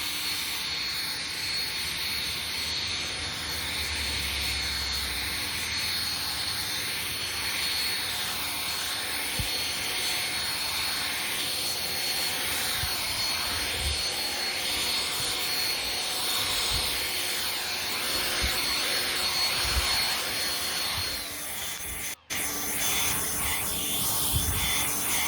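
A Kobalt 24V cordless leaf blower runs continuously with a loud, breathy rushing roar and high whine, steady throughout with a brief cutout near the end.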